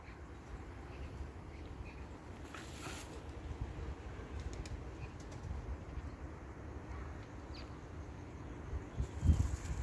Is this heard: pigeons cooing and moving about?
yes